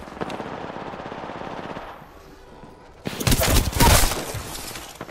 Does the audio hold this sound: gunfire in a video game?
yes